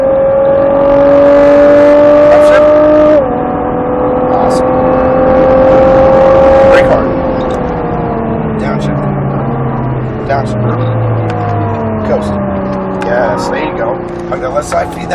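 A Nissan Skyline GT-R on a race track at Speed Vegas winds its engine up in loud, rising pulls that drop sharply at each upshift, heard from inside the car with an instructor talking over it.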